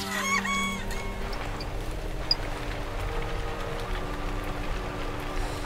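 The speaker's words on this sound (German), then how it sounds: "Das ist ein Huhn" Chicken clucking in the video game Tom the postgirl, a few short clucks and squawks near the start, then quieter intermittent calls over steady game ambience and music tones.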